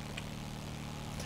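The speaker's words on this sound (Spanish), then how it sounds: "Escucho un helicóptero a lo lejos." A distant helicopter in a zombie roleplay video game, heard as a faint steady low rotor drone that hums on evenly for the brief moment.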